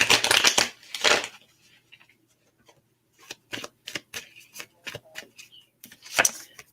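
Tarot cards shuffled and drawn in quick papery riffles and snaps, with a burst at the start, scattered flicks through the middle and a final riffle at the end, close and alone.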